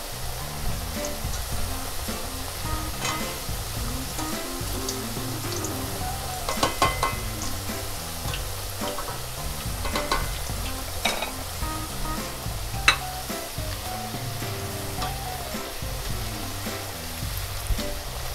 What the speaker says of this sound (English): Our tortilla chips are freshly fried right out of the oil.